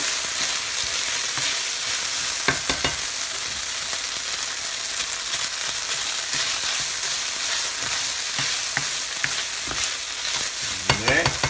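Cooked rice for egg fried rice frying in a hot pan, giving a steady loud sizzle broken by repeated scraping and stirring strokes, close up and without speech.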